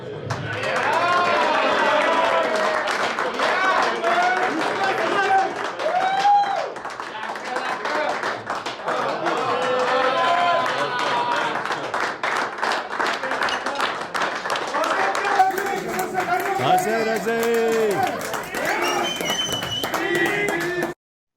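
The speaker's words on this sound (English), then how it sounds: "Please give a round of applause to this year's Challenge 500 winner, Godfrey Father." Steady applause from a golf show audience for a tournament winner fills the whole stretch, dense clapping with crowd voices and cheers mixed in, ending abruptly.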